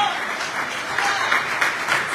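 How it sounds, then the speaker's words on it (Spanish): A church congregation applauds during a sermon, a dense, continuous wash of clapping that holds steady throughout, moderately loud and without speech over it. "Dar un aplauso al que vive."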